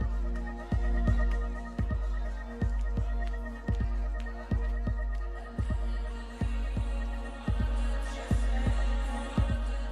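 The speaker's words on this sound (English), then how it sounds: "Some booming bass here in this one." Booming bass from a song pulses in a steady, loud thumping rhythm, one deep hit after another for the whole stretch, with the music playing alone and no voices over it.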